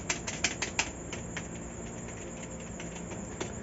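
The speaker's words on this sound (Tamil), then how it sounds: "ஆனால் அந்த ஸ்பேஸ் பாரோட சவுண்ட் கேட்குது பாருங்களேன்" Space bar of a Cosmic Byte CB-GK-05 Titan gaming keyboard, clacking in a quick series of taps near the start and then a few scattered presses, faint over a steady background hiss.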